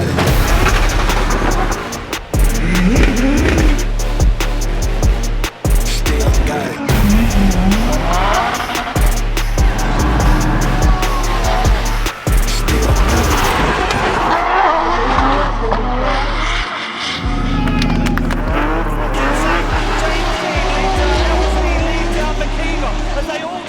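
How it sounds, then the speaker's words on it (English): Drift cars battling at LZ World Tour in Ireland, engines roaring loud and continuous with repeated tire squeal and skidding across the whole stretch, crowd-level voices faintly underneath. "This is the team drift battle that we'd love to see."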